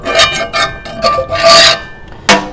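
A cast iron skillet is scraped clean in short, loud, rasping strokes, several separate bursts close to the mic, with no voices.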